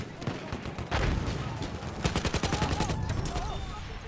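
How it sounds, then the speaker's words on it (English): Rapid bursts of explosive fire boom through a video game battle, one cluster near the start, then a denser run of sharp repeated blasts in the second half, all loud and close. "Mortar."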